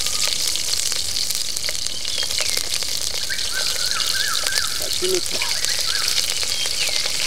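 Green chillies sizzling as they fry in hot oil with cumin seeds, a constant loud crackling hiss filling the whole stretch, with faint background chirps and clatter.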